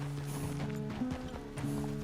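A horse in the video game Red Dead Redemption 2 clip-clops along with soft, irregular hoofbeats beneath a low steady tonal hum, quiet and close.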